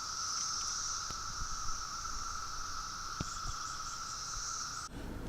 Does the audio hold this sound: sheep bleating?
no